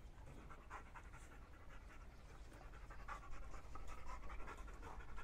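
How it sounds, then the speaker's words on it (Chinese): A 13-year-old retired police dog pants close by, quick rhythmic breaths that are soft and continuous and grow slightly stronger toward the end, with no talking. "狼牙，过来，来，来，狗有点害怕我这狗。"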